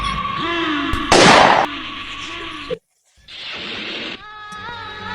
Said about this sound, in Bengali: লিডারের বাড়ি গুলির শব্দ